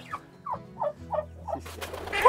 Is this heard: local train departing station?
no